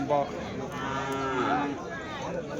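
A calf gives one drawn-out moo, close and fairly loud, rising and falling in pitch, at a cattle market.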